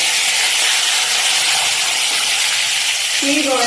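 A piece of pond-caught fish sizzles loudly in hot oil, a dense, steady crackling hiss that fills the whole stretch with a faint higher tone creeping in near the end.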